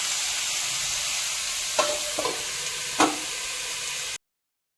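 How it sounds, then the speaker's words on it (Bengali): Soaked chickpeas frying in a pan for pumpkin curry, a loud continuous sizzle with a few sharp stirring knocks near the middle, then sudden silence at the end. "ছোলাটা যেহেতু ভেজা ছিল, ভেজে দিচ্ছি"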